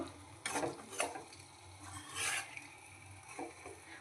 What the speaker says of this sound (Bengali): এবার আমি চিকেনটা তুলে দিয়েছি, দিয়ে যে কষতে দিয়ে দেব